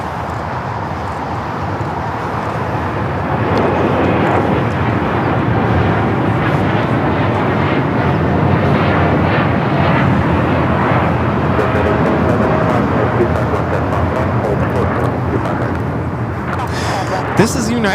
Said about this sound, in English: 1855 taking off to Newark on the 787-10 Dreamliner